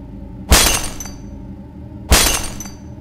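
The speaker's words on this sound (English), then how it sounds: "This looks like smashing against some glass, but I don't see any glass." Glass smashes twice inside the video game Silent Hill, each a loud, sharp crash that shatters and then decays. The impacts come about one and a half seconds apart and stand alone with no talk.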